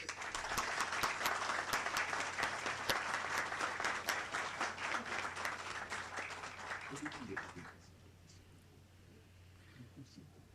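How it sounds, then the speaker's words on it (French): An audience applauds the architect Delatour at a ministerial installation ceremony, a dense round of clapping that holds for several seconds before dying away into quiet room tone. "Je demande à l'assistance de l'applaudir"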